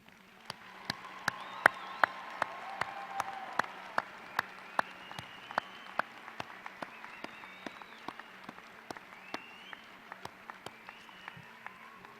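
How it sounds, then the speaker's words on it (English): Graduation commencement ceremony applause: scattered, sparse hand claps with distinct individual claps standing out over a soft crowd murmur, gradually thinning over about twelve seconds in a large hall. "You may now applaud."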